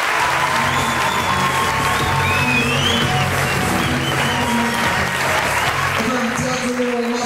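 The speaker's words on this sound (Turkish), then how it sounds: "bu muhteşem ekibe bir alkış daha rica ederim" Audience of parents and students applauding after a school play, sustained dense clapping filling the hall from start to end, with some crowd murmur and a few voices underneath.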